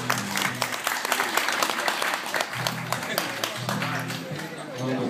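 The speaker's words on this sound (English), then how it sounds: "Please get a round of applause for the band that loves you" An audience at a live show at The Barrel House applauds the band, a dense sustained clapping with a few cheers, while a voice speaks over it.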